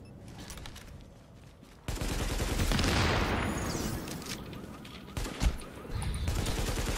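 Sustained automatic gunfire from the shooter The Division's Dark Zone, a thick, loud barrage that rises abruptly, swells, and carries on with a few heavier thumps near the end.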